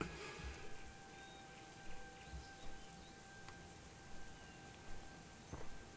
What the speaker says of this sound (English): It's been raining in Elwyn all morning though